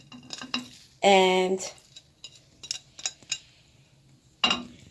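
A spoon stirs a pot of white bean Tuscan soup with chopped baby spinach, giving scattered clinks and scrapes against the pot, one sharp ringing clang, and soft wet stirring, with a brief word spoken.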